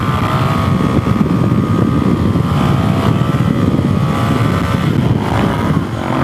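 A Suzuki DRZ400SM motorcycle with a stroker big-bore engine drones steadily while riding in third gear, a loud continuous engine note with wind rush and no talk.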